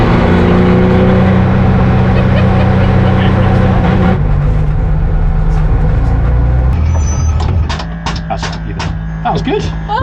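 A Ginetta G56 GTA race car drives on a circuit, its engine holding a loud steady roar heard close up, then easing off into a lower idle-like drone.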